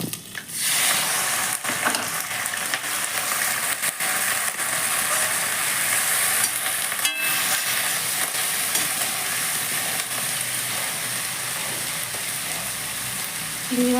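Prawns frying in hot oil after potatoes, a steady broadband sizzle and crackle running evenly throughout, close and fairly loud, with no talking.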